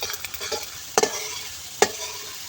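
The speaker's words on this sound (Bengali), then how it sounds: "পেঁয়াজ আর রসুন কুচিটা আমার বাদামি কালারের ভাজা হয়ে গেছে" Chopped onion and garlic fry until brown in a little oil, a moderate sizzle with a few sharp clatters of a spoon stirring the pan.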